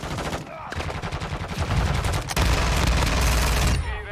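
FTAC Siege pistol fired in Modern Warfare 2, rapid automatic bursts of close, loud shots that run almost continuously, with only a short break between volleys.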